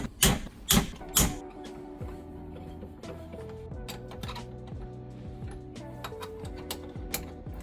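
An 8 mm Allen wrench works bolts loose from the head of a TSF2021 pump, giving three loud metallic clanks at the start and then a run of quieter clicks and ratcheting over a steady mechanical background hum.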